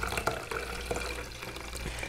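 Ammonia monobath black-and-white film developer pours steadily from a tray back into its container, a continuous close liquid splash and trickle with small drips, no voices.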